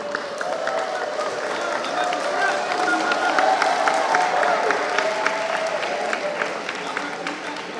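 An audience applauding a panel speaker at a televised forum on school bullying: steady, dense clapping from a crowd, even and sustained throughout at moderate loudness.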